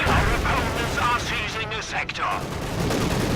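A satchel charge detonates in the Company of Heroes 2 video game, a loud crackling burst of explosions and gunfire that continues under excited commentary.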